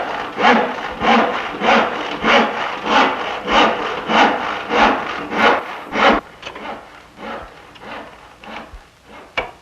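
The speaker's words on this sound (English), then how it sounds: "This will then be sawn to shape" A hand saw cuts a spruce plank blank for a spinet case bottom in steady, evenly spaced strokes, loud and close, the rhythm breaking into shorter, lighter strokes toward the end.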